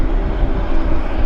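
A Q400 turboprop airliner rolls out at Vancouver YVR airport, its loud, close, broadband engine roar steady and unbroken by voices, with some wind buffeting the microphone.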